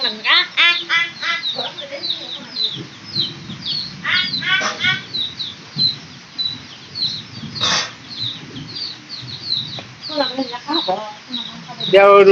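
Chickens cluck and squawk close by in repeated bursts, with people talking on and off among the birds.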